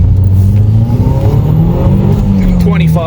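Sports car pulling hard in first gear, engine note climbing loud and close with a throaty rising rev, while people talk in the cabin.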